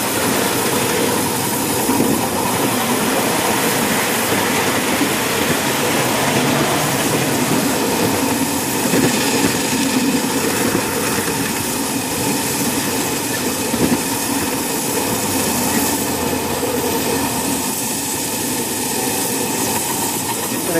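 A train running along the track, heard from its rear: loud, steady engine drone and rolling rumble with a sustained hum throughout, no voices.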